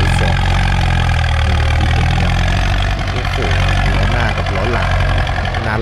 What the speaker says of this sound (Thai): รถไถฟอร์ด